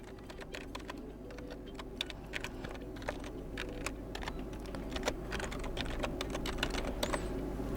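Rapid, close clicking of typing on a computer keyboard, irregular keystrokes running continuously over a low steady background hum.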